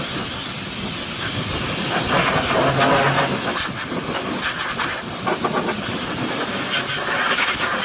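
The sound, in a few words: compressed air blowing debris off Subaru Legacy headlight area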